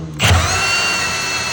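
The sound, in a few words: power drill cutting with a hole saw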